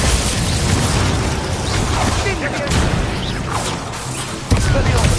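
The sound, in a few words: Glacier spell cast in the video game Hogwarts Legacy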